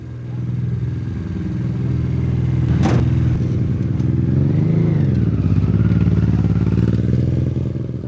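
A hand-built FS KPI 004 race car with a 60 horsepower engine idles and revs loudly and close, with a steady engine drone, a sharp clack near the middle and rising and falling revs.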